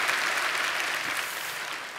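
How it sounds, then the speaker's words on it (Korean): A church congregation at a sign-language service for deaf worshippers claps in dense, steady applause, loud and sustained throughout with no speech over it. "다시 한번 뜨겁게 좀 박수 줬으면 좋겠습니다"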